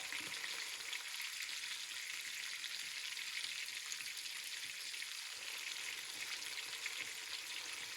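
Pork loin sears in a hot pan with a steady, close sizzle and fine crackle that stays even and unbroken for the whole stretch, with no voices.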